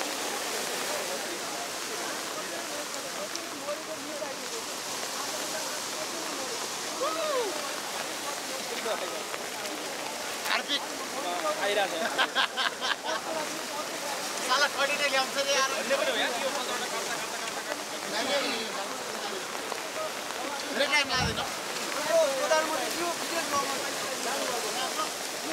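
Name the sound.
fast-flowing flooded river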